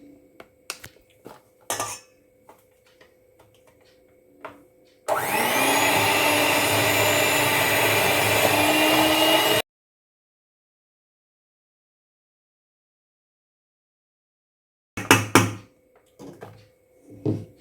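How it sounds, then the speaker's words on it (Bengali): An electric hand beater whips a homemade ice cream mixture in a bowl, a steady loud whirring that runs for about five seconds after a few clinks of utensils, then stops, followed by more clatter. "তো এই বিটার মেশিনটা দিয়ে আমি যে বিট করব"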